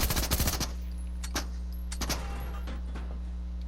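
Rapid automatic fire from the Machine Pistol in Fortnite, a dense burst of shots at the start, then spaced single reports and clanks over a steady low hum.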